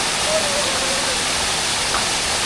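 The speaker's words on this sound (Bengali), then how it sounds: "ঝিরিঝিরি বৃষ্টি হচ্ছে এখন এবং ঝর্ণার শব্দ আপনারা শুনতেই পাচ্ছেন।" Lalghat waterfall in Sunamganj keeps up a loud, continuous rush of falling water, with light rain mixed into the steady roar at close range and no break throughout.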